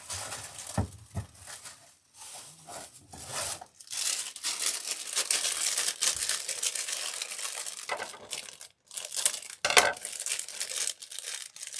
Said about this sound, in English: we're going to need more crinkle paper